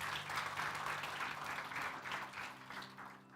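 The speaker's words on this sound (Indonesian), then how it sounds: "Kasih tepuk tangan buat Tuhan Yesus." Congregation applauding during an evening worship service, a steady dense wash of clapping that swells in waves over a low hum of music, with no voices standing out.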